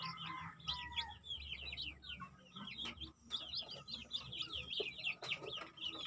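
Chickens clucking with high chirps of chicks in a farmyard where hens have been brooding eggs, a busy continuous chorus of overlapping calls at close range.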